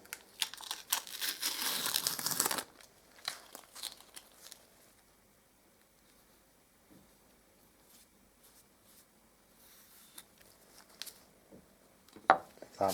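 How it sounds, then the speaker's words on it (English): Masking tape is peeled off freshly caulked work in a burst of close crinkly tearing for about two seconds, followed by quieter scattered rustles and handling noises. "I'll take the tape off now."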